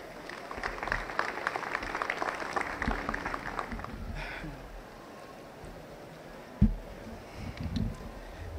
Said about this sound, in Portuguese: Mas aplausos.